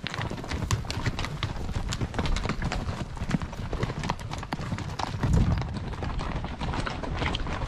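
Horse hooves clip-clop steadily on a wilderness trail ride in the Bob Marshall Wilderness, a continuous close rhythm of hoof strikes with faint talk in the background.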